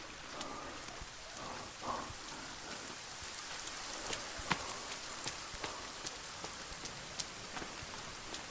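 Rain falls steadily in the survival video game The Forest, a soft, even hiss with scattered droplet ticks. Faint rumbles sit underneath, and no one talks.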